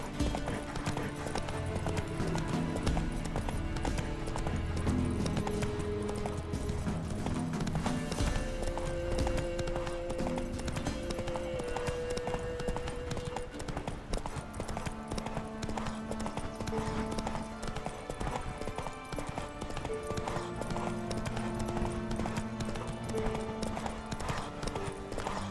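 Roach, Geralt's horse in The Witcher 3, gallops with a steady, fast clip-clop of hooves over a game music bed, with faint speech mixed in.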